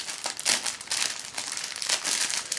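Crinkling and tearing of plastic packaging as a taped package of airsoft gear is opened, a close run of rustling crackles and rips with no talking.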